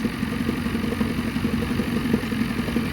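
A Theri 430R engine held at full throttle but barely revving: a steady, mid-pitched, slightly clattery hum at a constant speed, close and alone, with no rise in pitch.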